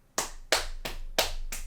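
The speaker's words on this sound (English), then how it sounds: "That's not me applauding, that's me slapping my hand against my fat leg" A hand slapping against a thigh four times in an irregular rhythm, each slap sharp and close like a single clap, with a low hum underneath and no talking.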